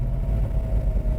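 A 1966 Chevrolet Chevelle SS V8 engine and exhaust rumble steadily up close, a deep, continuous low drone that holds even throughout with no talking.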